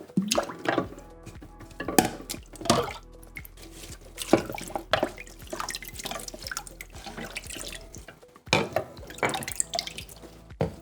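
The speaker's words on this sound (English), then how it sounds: "Now it's time to get the plastics in the basin and give them a good wash." Plastic parts of a LifeSaver Liberty water bottle being washed by hand in a basin, with irregular drips, splashes and soft knocks of plastic against water, close and fairly quiet, with a brief pause near the middle.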